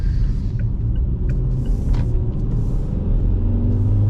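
A 2024 Forthing T5 EVO petrol car cruising on a highway in sport mode at night, heard from inside the cabin as a steady loud engine and road rumble with continuous tyre and wind noise.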